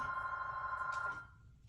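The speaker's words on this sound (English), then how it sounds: "That's my phone." A mobile phone rings with a steady electronic tone that holds for about a second and then cuts off, leaving a low room hum.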